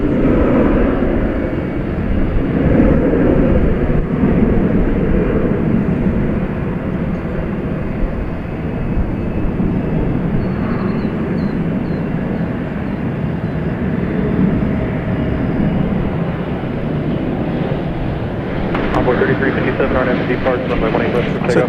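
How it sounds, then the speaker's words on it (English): A 22-year-old UPS Airbus A300 jet departing from DFW airport, its engines making a steady, loud roar throughout, with a person talking over the noise. "This is an Airbus A306 going to Ontario, California, flight"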